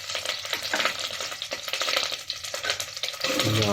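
Butter, garlic and ginger sizzle in a pot for carrot soup, a loud, close frying hiss with repeated stirring scrapes and utensil clinks throughout.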